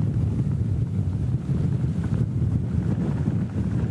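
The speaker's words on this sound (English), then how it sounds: "It's been unrelenting now for the past hour, not only the wind but the rain" Hurricane Harvey's wind and heavy rain lash Port Lavaca in a steady, loud roar dominated by low rumbling buffeting, with no break for nearly four seconds and no voices.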